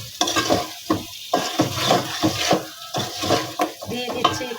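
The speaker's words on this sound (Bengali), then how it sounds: "আমি আলুটা একটু ভালোভাবে কষাই নিচ্ছি" Potato slices being stir-fried in spice masala in a pan, with rhythmic scraping strokes of a spatula against metal over a steady sizzle, close and fairly loud, with no voices.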